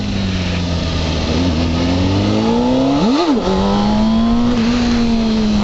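A motorcycle engine revs hard during a wheelie attempt, holding a steady drone, then sweeping up sharply and dropping back before settling into a constant loud hum.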